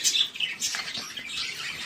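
Pet budgerigars chirp and tweet rapidly at close range, bright overlapping calls in quick bursts around soft food being offered.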